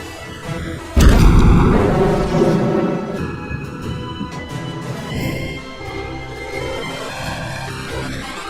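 Warship main guns fire in a sudden, heavy boom that decays into a long rumbling roar, set under a dramatic film score with brassy tones continuing afterward.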